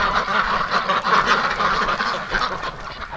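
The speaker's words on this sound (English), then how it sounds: "Took care of the hospital ducks." Ducks kept in a hospital pen quack in a busy, continuous chorus, close and moderately loud, with overlapping nasal calls and no break.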